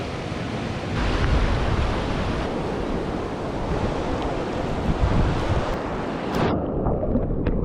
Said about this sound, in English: During large tides, these standing waves can get up to 6 feet high, and they're a great place to surf for an expert.